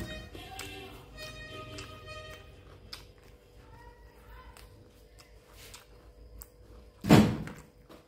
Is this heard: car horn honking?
no